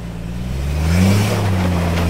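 A Jeep on the rocky Fault Line cliff trail climbs a rock ledge, its engine droning low and close, with revs swelling briefly mid-clip before settling, no one talking.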